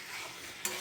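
Meat curry with turmeric being stirred in a cooking pan, a soft continuous scraping and sizzle that rises in a brief louder burst near the end.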